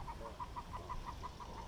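A tiny duckling peeps in a rapid, regular series of high chirps, close by, over a low steady background hum.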